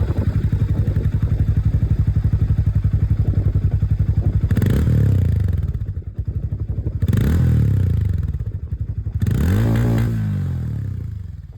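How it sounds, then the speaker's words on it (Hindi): Hero Mavrick 440 2024 motorcycle exhaust idling with a deep, steady bassy thump, broken by three sharp throttle blips that rise and fall, loud and close with no talking. "बाकी एग्जॉस्ट दोस्तों आवाज़ से जानी जाती है"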